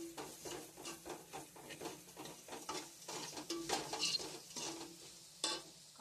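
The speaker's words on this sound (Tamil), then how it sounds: "போட்டு அதை நல்லா கிளறி விடுறோம்." Sambar with asafoetida powder stirred in a pot, a quick steady rhythm of ladle strokes scraping the vessel over a soft simmer, close and moderately quiet, with occasional metallic ticks.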